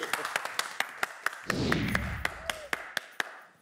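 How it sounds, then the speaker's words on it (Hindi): On a Zee TV show set, a few hands clap in a slow, sparse rhythm of distinct sharp claps, with a brief whooshing swell midway and a voice faintly present. "तालियां."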